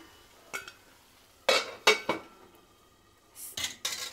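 A metal lid clanks onto a cooking pot for a spicy prawn curry, a few sharp separate clinks and knocks close by with quiet gaps between them.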